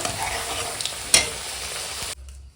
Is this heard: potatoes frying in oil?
yes